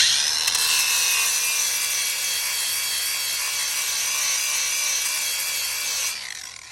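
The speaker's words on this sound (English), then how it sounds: "I just take a grinder with a flap wheel on it. This is my Ryobi battery powered one" A Ryobi battery-powered grinder with a flap wheel smooths oxidation off a wheel, giving a loud, continuous high-pitched abrasive whir close by that stays steady for several seconds and then tapers off.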